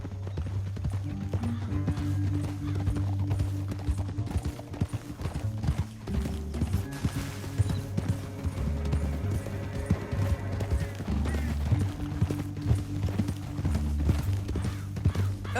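Horse hooves clip-clop steadily through a Red Dead Redemption 2 game scene, a continuous loud rhythmic trot with music and effects layered underneath and no talk.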